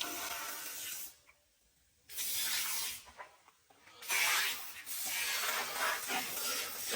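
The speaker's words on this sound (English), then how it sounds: "I'll come over here and give this a squirt with this. Let's give it a squirt. The foam." Foam spray squirts onto a Dodge 440 engine in three bursts of hissing spray, each about a second long with short pauses between, close and loud.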